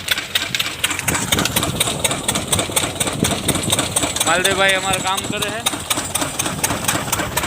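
A tractor engine runs on a village farm with a steady rhythmic knocking chug, close and loud, while people talk over it.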